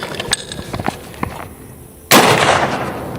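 A single loud .308 rifle shot fired into a row of cardboard boxes outdoors, a sharp close blast breaking a quiet stretch of faint rustling and clicks, followed by a sustained ringing decay.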